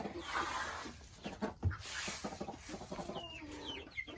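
Farm ducks forage on freshly pulled weeds thrown into their pen, making soft clucking and quacking calls amid rustling and pecking, fairly quiet and close, with no speech.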